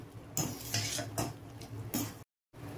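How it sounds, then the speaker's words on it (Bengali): A spoon stirs spices, ingredients and fresh coriander leaves in a cooking pot, giving repeated metallic scrapes and clinks in a loose rhythm, close and fairly clear, with a brief cut to silence near the end. "সবকিছু দিয়ে খুব ভালো করে নেড়ে দিলাম"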